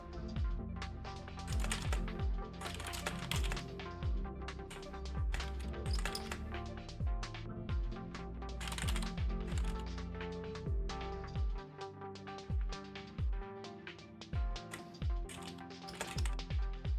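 Quick typing on a computer keyboard, a steady patter of close, crisp key clicks running continuously, fairly soft, with no talking over it.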